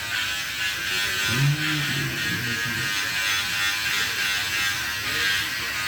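A nearby electric shaver hums steadily through the whole moment, its buzz changing slightly as it moves across stubble.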